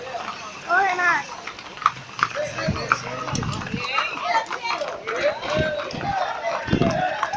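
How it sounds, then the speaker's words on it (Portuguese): Horse hooves thud in uneven bursts while riding during a cavalgada, mixed with busy crowd chatter and voices nearby throughout. "Aí, MC Bruno, tá andando de cavalo aí."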